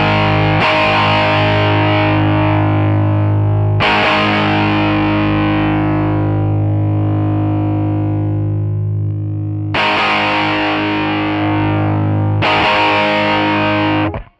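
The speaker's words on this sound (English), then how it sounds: "we are in the lead channel, right? And this is our lead drive" Heavily distorted pop punk electric guitar chords through an amp's lead channel ring out loud and sustained, with fresh strums roughly every few seconds and a thick, saturated, boosted low end.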